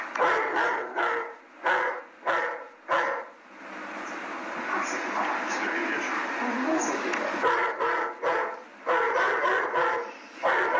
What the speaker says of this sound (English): That dog is not going to attack us in any way?